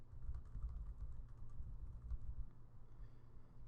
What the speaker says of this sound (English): let's press F5 to switch to text and type out a little bit of text in our document